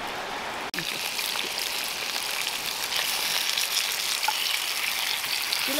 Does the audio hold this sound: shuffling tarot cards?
no